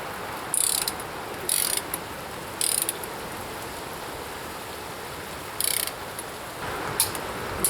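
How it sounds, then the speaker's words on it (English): A torque wrench with a 17mm socket tightens quad bike wheel nuts, giving several sharp, close ratchet clicking bursts at irregular intervals over a steady background hiss. "that's my torque wrench set to 48 foot-pounds. 17mm socket for these."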